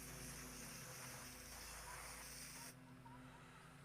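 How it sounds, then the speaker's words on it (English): Steady aerosol spray of K&N air filter oil onto a motorcycle air filter, hissing continuously for several seconds, loud and close, then dropping off slightly near the end. "So I just spray it down"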